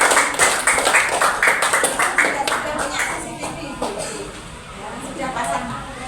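Applause during a school discussion session, a burst of rhythmic group clapping that is loud at first and tapers off after a few seconds, with speech mixed in.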